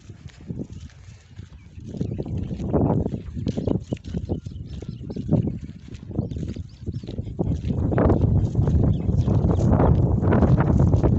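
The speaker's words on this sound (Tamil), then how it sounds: "காற்று பார்த்தீங்களா எப்படி விது வீசுதுன்னு வேறு லெவலுங்க" Strong outdoor wind gusts and buffets against the microphone on a rural village outing, rumbling in uneven surges that build louder toward the end, with no talking.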